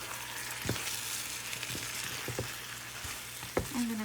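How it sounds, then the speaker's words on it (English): Food fries in a pan with a steady, close sizzle, broken by a few soft knocks and stirring clatters, no voices over it. "I'm going to fry them up"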